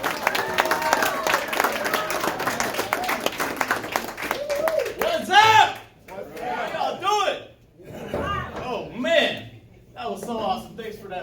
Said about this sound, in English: Thanks for that awesome hand claps